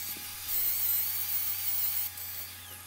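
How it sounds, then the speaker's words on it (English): A faired flap disc on an angle grinder works over welds on a steel base for a slab coffee table, giving a steady high-pitched whine that rises and eases slightly, with no talking. "I'm just running through it, grinding out some of my welds,"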